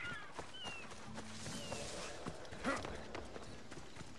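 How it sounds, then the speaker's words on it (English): Hooves pound in a quick galloping clip-clop as a horse runs in the video game Assassin's Creed Odyssey, mixed with busy game sound effects and clanks throughout. "He's on a horse, that's not fair."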